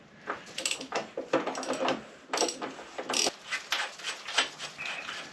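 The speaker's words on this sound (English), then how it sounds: "Just gonna crack this nut, put that in place, hold it firm, and loosen the nut off." A spanner works a nut loose on a Triumph Tiger Sport motorcycle during fork and headstock servicing, giving a run of close, sharp ratcheting clicks and metallic clatter in uneven bursts.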